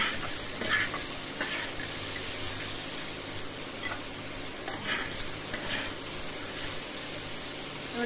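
Brinjal with turmeric and salt fries in a pan, producing a soft, steady sizzle with occasional scraping stirs and light clicks, fairly faint and with no one talking.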